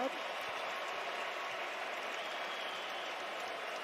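A baseball stadium crowd at a Yankees versus Rangers game keeps up a steady, dense roar of cheering and noise, continuous and fairly distant throughout.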